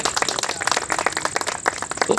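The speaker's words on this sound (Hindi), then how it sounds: "आपके लिए ताली बजानी पड़ेगी तभी आप आएंगे।" A live open mic show audience claps together, a dense patter of many hands at moderate loudness that continues steadily throughout, with no speech over it.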